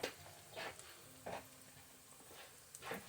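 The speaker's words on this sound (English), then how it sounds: "a little garlic, a little onion, a little turmeric, and a little cardamom. Kind of fry that herb just a little bit" Garlic, onion, turmeric and cardamom fry gently in a pan for collard greens, with a faint sizzle broken by several soft stirring scrapes.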